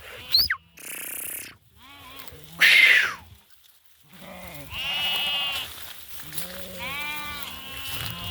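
Several sheep in a flock of about seven, including a breeding ram and young lambs, bleat in short separate calls with a few louder, longer cries, heard close by among farmyard noise, with someone talking at times.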